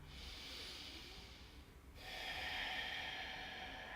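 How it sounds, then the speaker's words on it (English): A slow, deep breath during a yoga session: a long airy inhale, a brief pause, then a fuller, louder exhale through the nose, close and alone. "Let's take one more breath."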